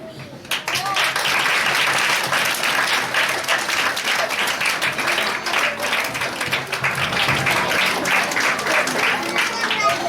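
A children's audience bursts into loud, sustained applause, dense clapping filling the space for several seconds with some voices mixed in.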